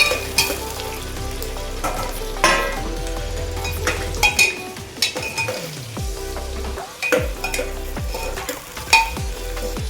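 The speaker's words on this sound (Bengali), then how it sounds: "পেঁয়াজ কুচানোটা একটু নাড়বো" Chopped onions fry loudly in a pan while being stirred, a steady crackling sizzle broken by repeated scraping and clinking strokes of the spoon against the metal.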